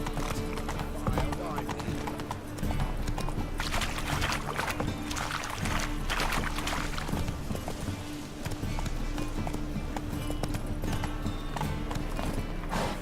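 Galloping hooves of a horse in The Witcher 3 video game, a fast continuous clatter running loud throughout, with a rider's voice speaking over it.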